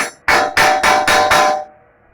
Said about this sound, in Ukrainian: Тут загинаю молотком.